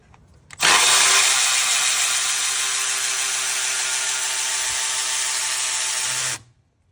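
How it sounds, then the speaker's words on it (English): A Milwaukee electric ratchet backs a bolt out toward a radiator, spinning up abruptly and holding a loud, steady high-pitched motor whine for about six seconds before cutting off sharply, with no talk over it. "next up is a Milwaukee, and I'm gonna do the same thing, basically back this bolt out until it touches the radiator"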